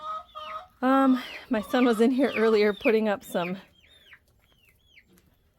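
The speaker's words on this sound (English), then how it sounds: "You can see a chicken eating out of it right now." Chickens in a backyard coop give soft high chirps and clucks, some under a person talking nearby and some alone after the talking stops.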